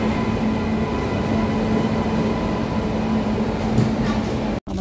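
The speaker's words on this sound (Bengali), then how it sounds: "এই ট্রেনটা হলো বিশাখাপত্তনম দীঘা" A Visakhapatnam–Digha passenger train, heard from on board, gives a steady loud rumble with a faint hum. It runs unbroken throughout and cuts out abruptly near the end.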